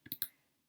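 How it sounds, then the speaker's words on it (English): Three quick, crisp computer mouse clicks in close succession, near and dry, with silence after, while working in the Canva design tool. "So I'm going to click this,"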